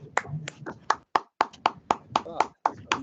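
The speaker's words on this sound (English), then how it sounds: "A few virtual claps as well." Several people in an online meeting clap irregularly, sharp, close claps spaced roughly every quarter second, with a voice talking partly underneath.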